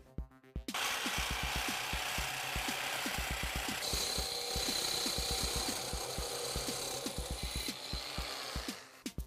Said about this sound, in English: Here I'm using a metal blade. This is specifically for cutting through metal with ease.